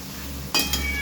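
Masala sautéed and stirred in a pan for a Bengali fish curry, heard as a short metallic clink of utensil on pan over a steady background hiss.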